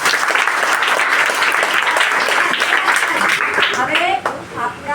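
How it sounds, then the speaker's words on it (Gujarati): Students applaud at a school notebook-distribution event in Dahisar, a dense, steady burst of many hands clapping that thins out near the end as a voice begins. "સરસ તાળી પાડો એના માટે"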